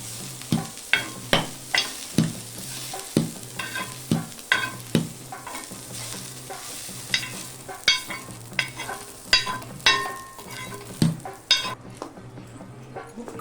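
Onions fry in a pan, softened for a chutney cooked in a paniyaram kadai, with repeated spatula scrapes and clacks against the metal over a soft background sizzle, close and rhythmic, with no voices.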